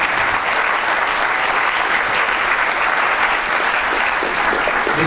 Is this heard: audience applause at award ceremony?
yes